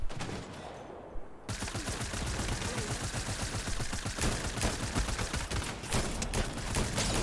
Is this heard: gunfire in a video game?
yes